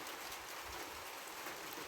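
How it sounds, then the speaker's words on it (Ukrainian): Light rain, long awaited after heat and drought, falls in a village garden as a soft, continuous hiss of drops on surfaces, brief and steady with no voices. "Дощик. Довгоочікуваний, хоч якийсь."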